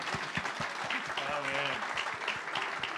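A church congregation applauds at a Sunday service, a broad wash of clapping with voices speaking and calling out over it throughout.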